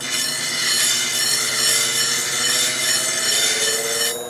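A bench grinder takes down the back of a blade, its bright, steady rasping whine running unbroken for several seconds, close and loud, before it breaks off at the end.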